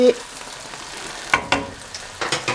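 Cuttlefish frying in a pan with olive oil for a tomato-sauce dish, a faint steady sizzle broken by a few sharp spits and pops as water bursts from the pieces.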